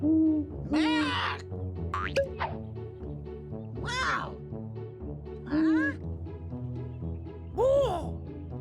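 Cartoon owl hoots ring out in a children's animal-names program, several bright, bouncy calls spaced over a background of playful synthesized tones and voices.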